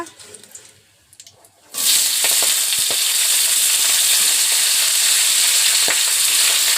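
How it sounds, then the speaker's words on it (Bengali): Vegetables hitting hot oil tempered with bay leaf, panch phoron and dried red chillies, quiet kitchen clatter suddenly giving way to a loud, dense, continuous sizzle with occasional stirring knocks, close up. "পাঁচফোড়নটা ভালো মতো ফুটে গেছে এবার দিয়ে দেব সবজিটা"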